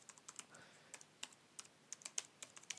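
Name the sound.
typing on a computer keyboard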